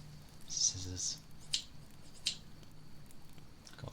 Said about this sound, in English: But I have scissors.